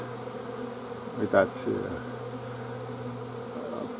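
Honey bees hum steadily at a beehive in an apiary in early March. The soft, continuous buzzing runs throughout, and a voice speaks a short word near the middle.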